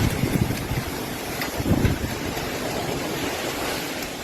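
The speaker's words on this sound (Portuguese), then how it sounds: "O registro mostra momentos de maior intensidade do vento e da chuva forte que atingiram a cidade durante a madrugada" Strong gusting wind and heavy rain roar steadily through a nighttime storm over the city of Bento Gonçalves, with broadband rushing noise and a couple of louder low gusts, no voices.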